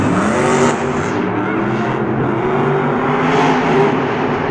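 A monster truck engine roars continuously at a Monster Jam stadium event in Houston, loud and sustained with wavering revs and a broad rumble that fills the arena.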